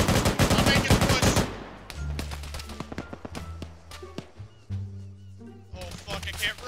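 Gunfire in the video game Antistasi, a dense close rapid volley at first, then scattered single and distant shots over a low rumble, with speech mixed in.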